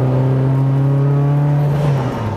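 A 2003 Mitsubishi Evo engine making 830 horsepower at the wheels holds a loud, steady high-pitched drone and then drops off as the revs fall near the end, close and alone.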